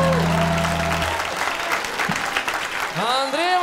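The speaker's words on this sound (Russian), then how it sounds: "Ваши аплодисменты." A club audience breaks into loud, continuous applause after a song, with a voice speaking over the clapping near the end.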